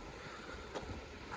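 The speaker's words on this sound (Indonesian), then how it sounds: "suara aliran air sungai." A small river or stream runs beside a village lane in rural Japan at night, giving a steady, fairly faint rushing and trickling wash with no talking.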